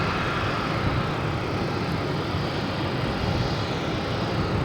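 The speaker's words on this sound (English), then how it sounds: "We have JetBlue taking off, heading to Phoenix," JetBlue Airbus A321 on its takeoff roll at Boston Logan, a dense, loud, unbroken jet engine roar holding steady throughout with no talking.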